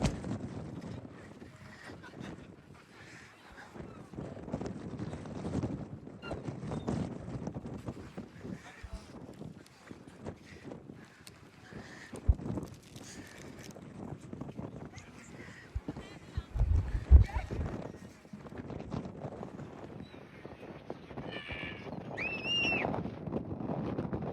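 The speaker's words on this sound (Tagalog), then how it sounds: "Lakas ng hangin." Gusty wind buffeting the microphone in rough rumbling bursts at the Seven Sisters cliffs in Kent, with scattered voices in the background.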